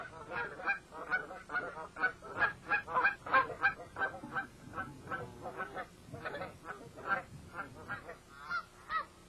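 A flock of dusky Canada geese honks continuously, many overlapping loud calls in rapid, irregular succession, close and busy throughout.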